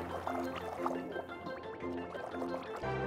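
River water in the I Am Fish video game flows and drips in a gentle, steady liquid gurgle, fairly quiet, with soft game music tones underneath and no talking.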